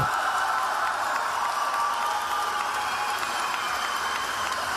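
A strongman competition crowd in Portugal cheers and claps continuously, a dense wash of applause and shouting filling the space at steady volume without a break.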